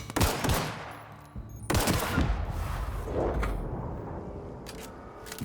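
Enemy gunfire in a video game, with dense, loud bursts of rapid shots near the start and again past the midpoint, then scattered fainter cracks and a low rumble, with no talk.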